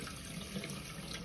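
Water runs steadily from a newly fitted kitchen tap into the sink, a continuous close rushing hiss without pauses, fairly quiet and alone.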